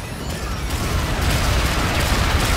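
Bombardment scorestreak in Call of Duty: Infinite Warfare multiplayer, a dense continuous roar of rumbling explosions and crackling blasts, loud and steady with no pauses.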